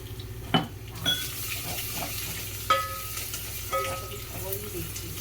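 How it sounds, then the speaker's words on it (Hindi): A spoon scrapes and clinks against a pan while a crushed mix of chilli and coriander is stirred into hot oil, with a soft sizzle underneath and a few sharp metal knocks close by. "अब मैं इसमें मिक्स करूँगी जो मैंने कूटा हुआ था ना, मिर्ची, धनिया, कैशूर वगैरह कूटा हुआ था"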